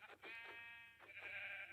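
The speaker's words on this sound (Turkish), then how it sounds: "Son bir tane koyun kaldı." A sheep in Minecraft bleats in drawn-out, wavering cries, two or three bleats in a row, clear and fairly close, with a synthetic game-like tone.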